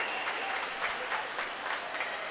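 A crowd at a high school senior-night swim meet applauds and cheers after a girl finishes the 500, a steady, dense wash of clapping with no break for the full stretch.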